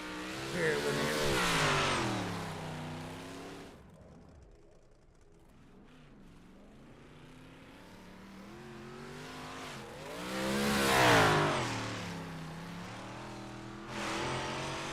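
Big Block Modified race cars roar past on a track, their engines swelling loud as each passes close, fading between passes, with a second surge later and another car closing in at the end.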